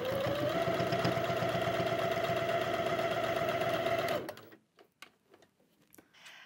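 A sewing machine stitches a bucket hat closed, its steady, loud rhythmic whir running for about four seconds before stopping abruptly, followed by a few faint clicks and handling sounds.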